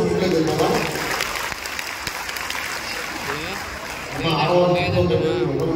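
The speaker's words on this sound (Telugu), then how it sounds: "మీరందరూ గట్టిగా చప్పట్లు కొడితే" Audience at a Telugu TV entertainment show applauds, a dense continuous clapping that stays loud throughout while a host keeps talking over it.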